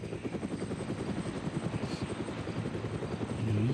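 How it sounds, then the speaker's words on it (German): An Mi-17 helicopter in the video game ArmA: Cold War Assault thrums with a steady rhythmic rotor chop, moderately loud, swelling slightly toward the end. "Ist wieder irgendwo ein dummer Hubschrauber."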